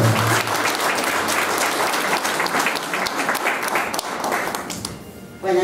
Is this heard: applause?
yes